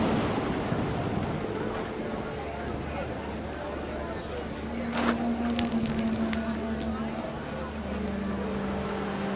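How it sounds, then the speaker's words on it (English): Heavy rain pours steadily in What Remains of Edith Finch, a dense continuous hiss with occasional deeper rumbles and a low hum beneath, and a voice speaking over it. "The rain came down in buckets then"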